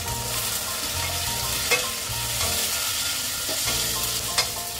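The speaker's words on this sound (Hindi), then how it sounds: "ये सारे वेजीज डालने के बाद करीब एक मिनट तक भूनने सारे वेजीज को।" Vegetables being sautéed in a pan for rava upma, a steady loud sizzle and frying hiss with a few spoon-stir scrapes and knocks throughout, no speech.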